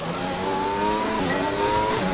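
A Formula 1 race car in the video game F1 2020 drifts with a steady high engine whine and rising pitch, close and loud, with no talk over it.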